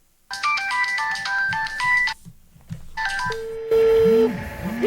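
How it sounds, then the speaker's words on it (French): A telephone rings repeatedly with electronic ringtone bursts and a DTMF-like tone, then cuts to an answering machine's beeping tones, loud and clear with no talking. "Un appareil téléphonique qui sonne jusqu'au répondeur."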